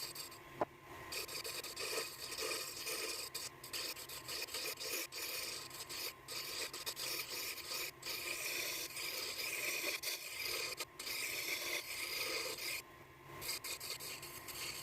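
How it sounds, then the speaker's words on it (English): A wooden handle is being shaped on a lathe, giving a steady, close rasping and scraping that runs unbroken for the whole stretch, with no talking. "it's time for the fun part, shaping the handle"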